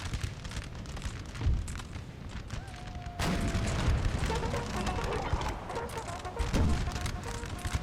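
Cannon artillery fire in the Napoleon: Total War video game, several deep booms sounding over a continuous din of battle, with a loud burst partway through and further thuds following.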